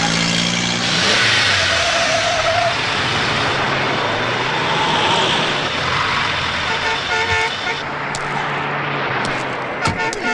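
A car slows and pulls over to the roadside, its mid-pitched engine easing off, with short horn toots near the end and voices around it.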